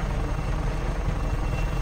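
A helicopter in the Just Cause 3 video game gives a loud, steady, close rotor roar with a deep rumble throughout, and no voices.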